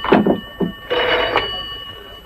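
Telephone bell ringing in a 1967 French film: two short close rings followed by a longer sustained ring, loud and alone without talk.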